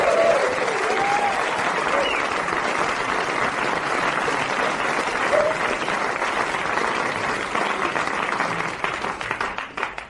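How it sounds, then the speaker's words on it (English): A studio audience at a comedy chat show applauds a guest with a loud, dense, sustained roar of clapping that continues evenly for around ten seconds before starting to thin out at the very end. "another big round of applause for Lawrence Camley, a clever man"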